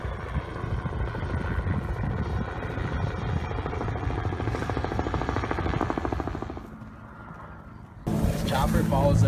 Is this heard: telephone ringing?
no